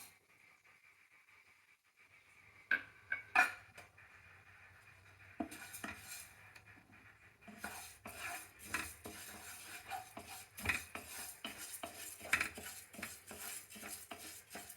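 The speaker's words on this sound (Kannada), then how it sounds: "ಫಸ್ಟ್ ಹೆಸರುಬೇಳೆ ಹುರ್ಕೊಳ್ಳೋಣ." A metal spoon scrapes and clinks against a pan while moong dal is stirred and roasted in ghee, with sparse, irregular taps and scrapes over a faint low hum, no speech.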